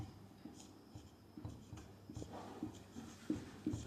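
Chalk or marker scratching on a classroom board in short irregular strokes and taps, close and fairly faint, with no talking.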